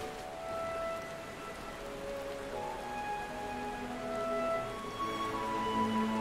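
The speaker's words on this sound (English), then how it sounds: "Were it not raining constantly here." Rain falls steadily in Gridania in Final Fantasy XIV, a soft, even hiss of drops layered with faint sustained tones, quiet and continuous throughout.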